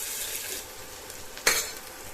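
Onions go into a pan and are stirred while frying for dal palak with skinless moong dal. There is a soft continuous sizzle with scraping stir strokes and one sharp clatter partway through, and no voices.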